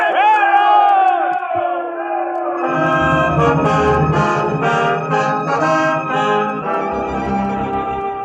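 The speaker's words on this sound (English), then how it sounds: "People cheering and yelling." A large crowd in a 1949 radio drama cheers and yells, many voices whooping and shouting together in a loud, sustained roar that swells and rises in waves.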